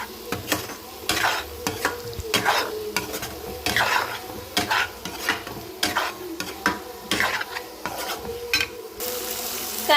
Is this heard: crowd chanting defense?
no